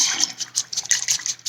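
Paintbrush rinsed in a water cup between painting flower petals, quick close sloshing and swishing with light splashes for a second and a half.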